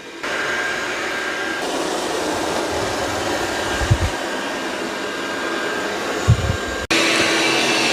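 A Dreame robot vacuum with its mop pads lifted cleans a carpet. Its loud, steady whirring hum runs throughout, with a couple of brief low bumps and a short cut near the end, and no voices.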